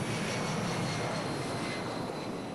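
Inside a plane on a long flight, the airplane engine gives a steady, broad droning roar with no breaks or voices.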